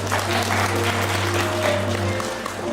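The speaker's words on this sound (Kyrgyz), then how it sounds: "Кол чаап койсоңуздар." Steady crowd applause at a wedding, continuous and fairly loud throughout, with a low hum beneath and faint voices mixed in.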